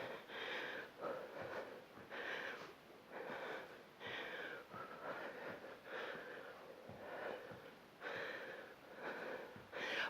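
Rhythmic, audible breathing during a plank hold in a glutes and abs workout, close, repeated wheezy inhales and exhales in a steady cycle with no talking.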